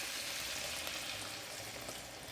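Steady, close rush of hot water being poured into a pot of curry chicken, a continuous hissing splash with no talking.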